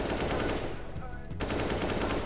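Rapid automatic rifle spray in CS:GO, a dense continuous stream of loud gunshots that breaks off briefly in the middle before firing resumes just as fast.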